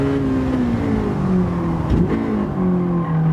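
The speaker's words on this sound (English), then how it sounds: "We're on the rev limiter there." A Honda Civic SiR in Gran Turismo 7 at Tsukuba Circuit holds a steady, high engine note against the rev limiter, with a brief dip midway and faint tire noise.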